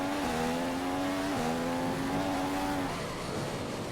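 A race car in a circuit racing video game accelerates through gears, its engine tone rising steadily, dropping at each shift and climbing again, loud and continuous with no talking.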